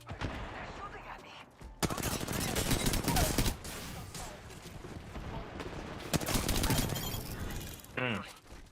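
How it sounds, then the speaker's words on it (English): Heavy automatic gunfire in Apex Legends, with loud bursts of rapid shots in two main volleys and some quieter crackle and impacts between them. "They're shooting at me."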